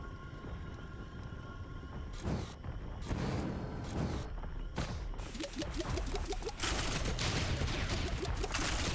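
Explosions and gunfire in Risk of Rain 2 go off in rapid repeated bursts, with grenades bursting amid dense, constant combat noise that becomes a loud, continuous barrage toward the end.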